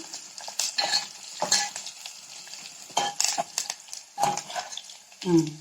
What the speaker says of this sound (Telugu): కరివేపాకు వేస్తున్నాం కొంచెం ఎర్రగడ్డ కొంచెం ఎక్కువ వేగాలి